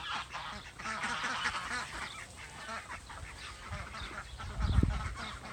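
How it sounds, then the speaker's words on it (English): Ducks on an off-grid Idaho homestead quack and honk a short distance away, a loose chatter of calls with a louder, deeper burst of honking near the end. "ducks,"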